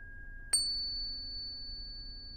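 A tuning fork is struck with a sharp metallic onset, then rings alone as a clear, sustained pure tone that holds steady and fades only slightly; no voices.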